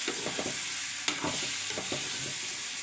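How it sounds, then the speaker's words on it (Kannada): Food frying in hot oil in a pan gives a close, steady sizzle with a few soft stirring clicks and one sharp knock, no talking. "ಎಣ್ಣೆ ಒಳಗೆ ಸ್ವಲ್ಪ ಫ್ರೈ ಮಾಡ್ಕೋಬೇಕು"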